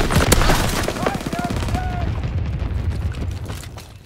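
A BAR rifle firing in Call of Duty WW2 multiplayer, a loud rattling volley early that fades into echoing battle noise and game effects, with a player's voice mixed in.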